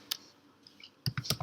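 Computer keyboard keys clicked while entering an Angular CLI command to create an Angular 8 web app: a single sharp click, a short pause, then a quick cluster of four or five crisp, close keystrokes.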